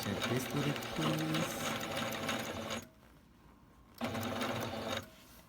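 A sewing machine back-stitches a lengthened sleeve with a loud, close, rapid mechanical whir that stops for about a second before the stitching resumes briefly.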